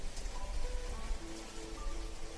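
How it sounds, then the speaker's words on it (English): Rain falling as a story sound effect, a steady, close, full hiss of drops on surfaces with no voices over it. "the rain came fast"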